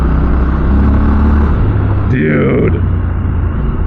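A Triumph Scrambler 1200 XE motorcycle riding off road, its engine a steady loud rumble with a brief rising whine of acceleration partway through, as a rider speaks over it.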